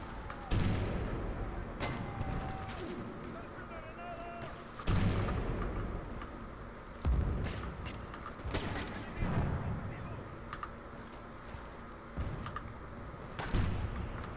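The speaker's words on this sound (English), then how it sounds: "Unless you're just bombarding us with grenades" Grenades and gunfire in the Bad Company 2 shooter game, a series of loud booming blasts every two to three seconds over a continuous rumble of distant battle, with a voice faintly underneath.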